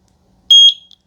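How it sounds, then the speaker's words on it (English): A Eufy E220 outdoor security camera sounds one sharp, high electronic beep after its sync button is held, a short loud tone with a faint second chirp, then silence. "Okay, I held it till I heard a beep."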